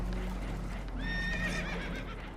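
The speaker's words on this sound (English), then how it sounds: "Horses are spooked, and we're taking on water." Spooked horses aboard a damaged boat whinny loudly and close, one long, wavering neigh rising over a constant low rumble of water and hoof clatter.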